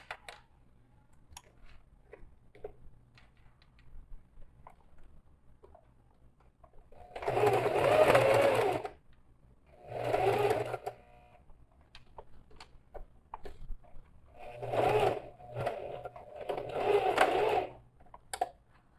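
A sewing machine stitches the seams of a necessaire bag in four separate bursts of rapid mechanical whirring, each lasting one to two seconds, close and clear against a quiet room with faint handling noise between runs.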